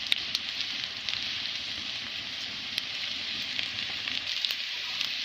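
Onion, green chili, bay leaf and cumin fry in hot oil for a fish curry, giving a steady, close sizzle with faint crackles and pops throughout, no voices.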